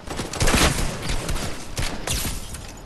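Dense bursts of rapid gunfire from Fortnite fill the whole stretch, loud and close, with overlapping volleys and brief lulls between them.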